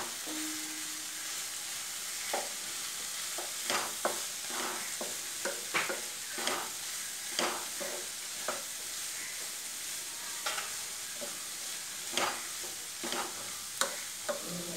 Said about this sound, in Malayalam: നമുക്കിതൊന്ന് ഇനി ഇളക്കി കൊടുക്കാം